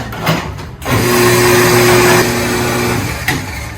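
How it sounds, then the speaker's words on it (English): An electric coffee grinder at a coffee roastery grinds decaf beans, its motor whirring into a steady, close, droning whine for about two seconds before cutting off. "So, so this is a decaf, but we'll grind that."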